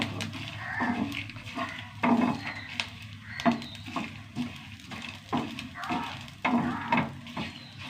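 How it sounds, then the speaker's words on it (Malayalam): Grated coconut and shrimp sizzle steadily in a hot pan while a spatula stirs them, scraping the pan in repeated strokes about once a second, close and clear. "തേങ്ങയൊക്കെ നന്നായി ആയിട്ടോ അങ്ങനെ മൊരിയണം. ചെമ്മീൻ നല്ല ബ്രൗൺ കളറായല്ല,"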